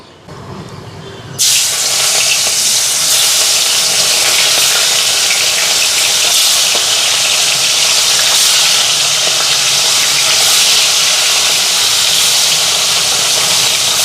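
Loud, steady sizzling and crackling of small bhangan fish frying in hot oil in a pan, starting abruptly after a quiet second and continuing without pause.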